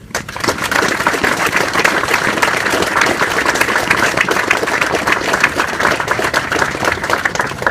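A crowd gives a steady, dense round of applause for a Gold Star family at a dedication ceremony, many hands clapping continuously at an even loudness from start to finish, with no speech over it.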